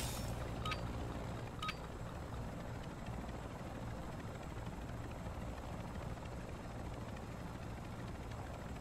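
A helicopter comes in to land for extraction in the MW3 Zombies video game, its steady rotor and engine wash droning evenly throughout, with a couple of faint metallic clinks near the start and no talk.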